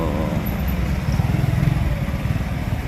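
A motorcycle engine runs close by at a police checkpoint. It holds a steady low rumble that swells a little partway through, with light mechanical clatter and no talk.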